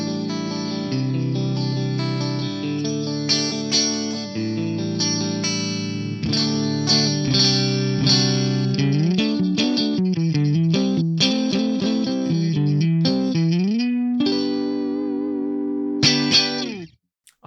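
An electric guitar runs through the Opto comp compressor on a Nano Cortex at stock settings, playing even, sustained chords and single-note lines with a smooth, evenly compressed tone, close and steady for the whole passage before stopping abruptly.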